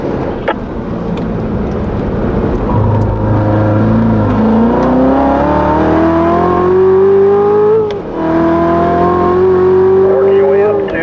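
A race car accelerates through its gears on the Spring Mountain Motorsports track, its engine note climbing loudly, dropping briefly at a shift, then rising again, with an instructor talking over it.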